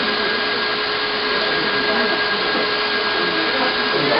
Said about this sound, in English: and then the sugar. Okay, and we're gonna whisk that